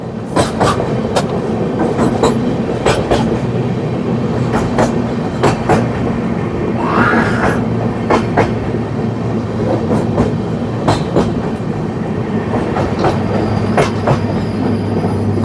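The Odisha Sampark Kranti train runs at speed, a steady rumble broken by regular clickety-clack wheel beats, with a brief squeal partway through and no talking.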